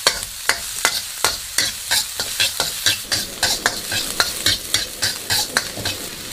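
Scallion, ginger, garlic, green pepper and onion stir-fry in a wok over low heat, giving a loud continuous sizzle with rapid, rhythmic spatula scrapes and clacks throughout.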